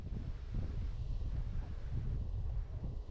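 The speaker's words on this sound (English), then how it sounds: "It's very windy" Steady wind roars across the microphone during a cycling ride through mid Wales, a broad low rumble that holds throughout without any speech.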